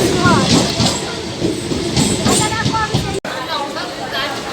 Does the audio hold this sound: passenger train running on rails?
yes